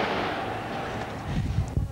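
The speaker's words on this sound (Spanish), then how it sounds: "se oyen algunos disparos todavía" Gunshots crackle during the December 1990 Carapintada armed rebellion at a port depot in Buenos Aires, with a sustained rumbling din and several sharp pops toward the end, distant and muffled.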